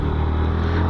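Yamaha FZ15 ABS 2022 motorcycle engine running steadily while riding, a loud continuous low rumble with even drone throughout.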